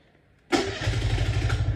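After a quiet half-second, an electric starter cranks and a small scooter engine, a 2023 Honda Beat or Suzuki Nex II, catches at once, settling into a steady, close idle.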